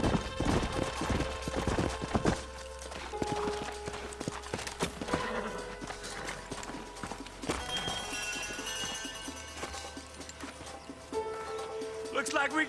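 Horses' hooves clip-clopping in the Western video game Red Dead Redemption, a steady trotting patter under game music and a talking voice.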